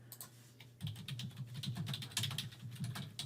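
Rapid, close typing on a computer keyboard as a search is entered on Etsy, a steady run of clicking keystrokes over a low background hum, with no talking.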